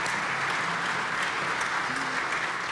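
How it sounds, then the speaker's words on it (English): An audience at a riverfront community meeting applauds steadily, a dense, even wash of clapping that holds without a break at moderate loudness. "so let's give her a round of applause"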